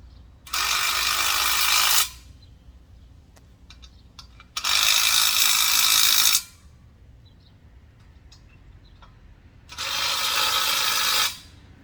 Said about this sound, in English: Now we're going to get our impact hammer